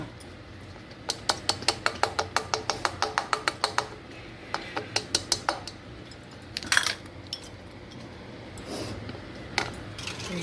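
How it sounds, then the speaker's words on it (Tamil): Metal strainer tapping and scraping against a pot while fish curry mixture is strained, a rapid series of bright clinks and taps close up, then scattered louder clanks with pauses, no talking. "ஸ்ட்ரெயினர் எடுத்துக்கிறேன். அப்புறம் நல்லா வடிகட்டிட்டு"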